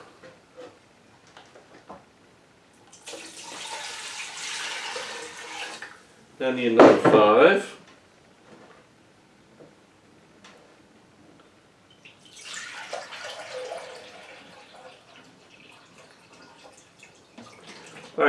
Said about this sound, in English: So let me get you 10 cups of water.